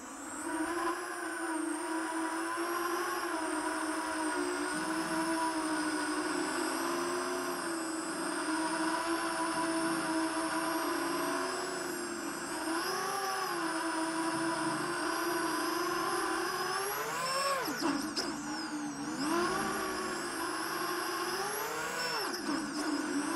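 Pirx Lifter X8 octocopter cinelifter on its maiden flight, eight motors whirring in a steady, close, loud drone with pitch swells and sharp surges as the craft rolls and loops through acro moves.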